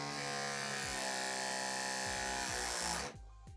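Electric pipe press tool crimping a fitting onto a pipe: a loud, steady motorized whine with rising harmonic tones for about three seconds, then cutting off abruptly with a brief release.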